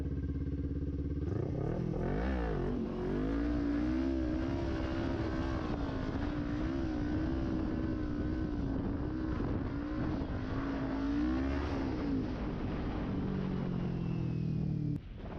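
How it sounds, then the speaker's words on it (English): Kawasaki Ninja 400 motorcycle held in a staggered wheelie, its engine droning loud and steady close to the mic for most of the run, with the pitch rising and wavering as the throttle is worked, then dropping off at the end. "So let's do a staggered wheelie for you guys so you guys can see that."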